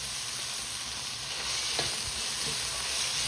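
Chicken fried rice with curry leaves, green chillies and salt being stirred in a hot pan, a continuous close sizzle with soft scraping stir strokes.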